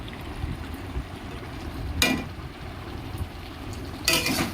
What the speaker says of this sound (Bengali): এবার চিকেনটা মশলার মধ্যে দিয়ে একটু নাড়াচাড়া করে নেব